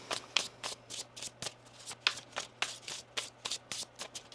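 A tarot deck is shuffled by hand close up, a quick series of crisp, rustling riffle bursts in an uneven rhythm, quiet and alone.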